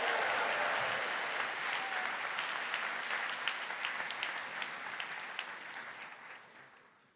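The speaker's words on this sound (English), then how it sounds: "give a round of applause and welcome Rotary to this." Audience applause welcoming a Rotary speaker to a membership talk, a dense steady clapping from a sizeable crowd that holds for several seconds and then fades toward the end, with no voices over it.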